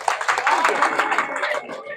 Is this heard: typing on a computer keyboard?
no